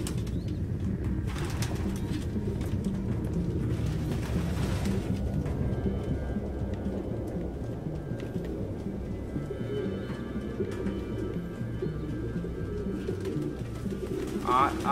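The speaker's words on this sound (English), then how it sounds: "No human could live with all these fucking pigeons." Pigeons cooing in a room full of birds in the video game Detroit: Become Human, a steady low murmur of many coos with occasional wing flutters, continuous throughout with some faint voices.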